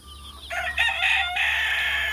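Dark Cornish and blue chickens let out of their coop give a loud, close rooster crow that rises and holds steady for over a second, with a softer cluck just before it.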